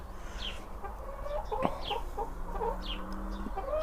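Large-breed hens clucking in a chicken run, several short soft clucks and calls scattered over a steady low background hum, fairly close.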